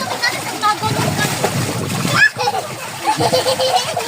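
A child diving into a swimming pool, a sharp splash near the middle amid sloshing water, with children's voices and excited chatter around it.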